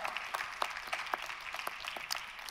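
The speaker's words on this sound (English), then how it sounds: "Give them a round of applause." An audience applauds and claps in a crowd, a steady dense patter of hands with scattered sharper claps standing out, moderately loud and continuous throughout with no voices over it.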